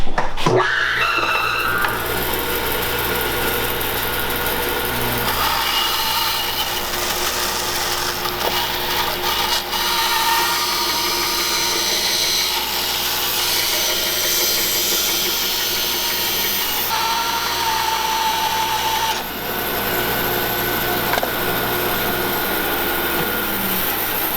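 A Harvey HW615 band saw resaws a piece of wood, its blade whining steadily and close for most of the cut, with a continuous mechanical drone and cutting rasp that eases slightly near the end.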